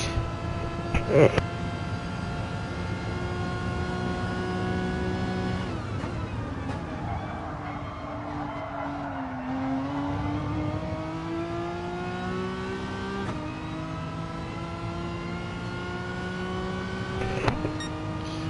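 Racing car engine on an onboard flying lap around the Autopolis circuit, a steady high-pitched multi-harmonic whine that rises and falls with shifts and revs, continuous throughout with brief clicks near the start and end.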